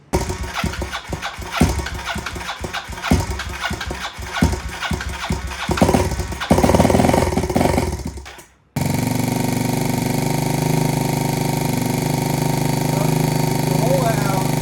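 A Kawasaki KLX110L dirt bike with big bore kit and cam, choke on, fires up for the first time, revving unevenly and bogging in loud bursts, then settles into a steady idle after a brief cutout; someone talks over it.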